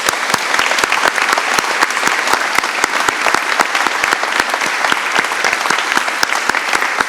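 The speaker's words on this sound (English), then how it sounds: "So if we could just give them a big round of applause" A large conference audience at an Oxford finance forum's closing debate breaks into loud, sustained applause, dense overlapping claps holding steady throughout with a few sharper individual claps standing out near the front.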